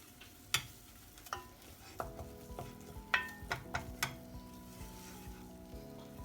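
A seafood filling sizzles softly in a hot pan, a steady low frying hiss broken by occasional clicks and clacks of stirring utensils, with no one speaking.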